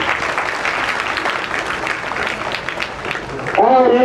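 An audience at a school function at Janta Inter College claps in a dense, sustained patter to welcome the chief guest, while a voice speaks over the applause.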